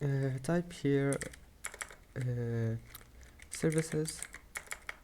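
Quick clicks of typing on a computer keyboard sound close, partly under a man's speech.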